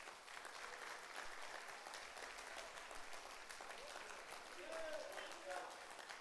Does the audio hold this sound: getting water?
no